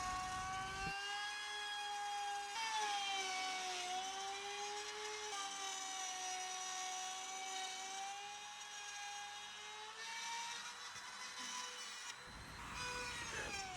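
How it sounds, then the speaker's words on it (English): A miniature milling machine cuts 8mm slots through an oak base under mahogany veneer, giving a steady, fairly quiet high-pitched motor whine whose pitch dips and rises slightly as the cut loads and eases. "To make the slots, I use my miniature milling machine."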